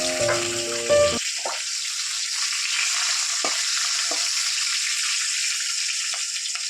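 Fenugreek seeds, two bay leaves and green chillies frying in hot oil: a brief clatter as they drop in, then a loud, steady sizzle broken by a few sharp pops and crackles, with no voices.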